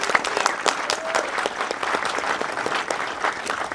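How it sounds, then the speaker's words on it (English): Steady, dense applause from an audience at a scout camp event at the Irvine Ranch Outdoor Education Center, many hands clapping at once with a sustained, even intensity and no talking. "let's give that a round of applause"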